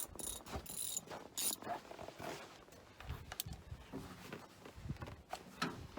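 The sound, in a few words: socket ratchet loosening bolt on John Deere 4010 tractor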